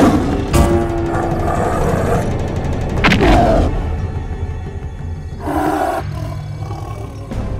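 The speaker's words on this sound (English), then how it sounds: "A huge tiger pounced on Bhima" A huge tiger roars loudly in an animated story, several big close roars with thuds between them and no talking.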